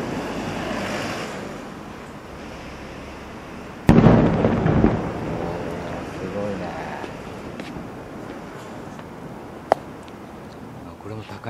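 Fireworks watched from a rooftop, heard as a sudden loud burst followed by rumbling and crackling against steady wind noise, with one sharp later pop and people talking quietly throughout.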